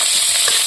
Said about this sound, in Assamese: এতিয়া অকণমান টাইম ভাজি ল'ব লাগিব।